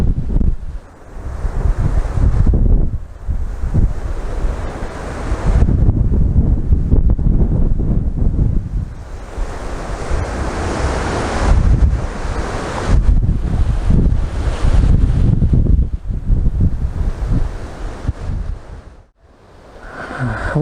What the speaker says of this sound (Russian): Вот такие вот порывы ветра вот.